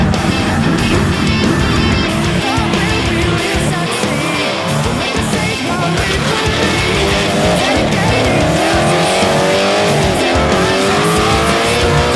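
A GT86 race car bounces over curbs at speed, with a loud, continuous engine roar, rumbling thuds from the tyres hitting kerbs and shifting whine as the revs rise and fall.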